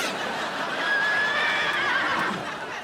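A horse whinnies once in a long, wavering neigh that rises and falls over a couple of seconds, fairly close and loud against a steady noisy background with no talk.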